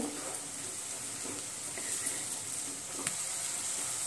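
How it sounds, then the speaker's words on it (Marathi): Finely chopped tomatoes softening with sautéed onion in a pan for pav bhaji, a soft steady sizzle with faint stirring scrapes and a few light clinks, close and continuous with no talk. "त्यामध्येच आपण 2 टोमॅटो, तीही आपण बारीक चिरून घेतलेली आहेत, तीही आपण मऊ होईपर्यंत परतून घेऊ।"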